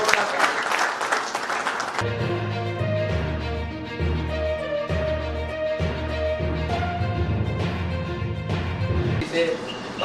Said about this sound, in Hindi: कृपा करके जोरदार तालियां।